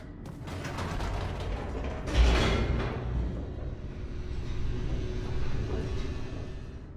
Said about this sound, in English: The elevator